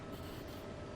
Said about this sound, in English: regardless of our location on the oil rig, it always sounds like a train station